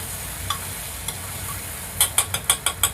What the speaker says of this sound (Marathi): आता चांगलं मिक्स करून घ्या।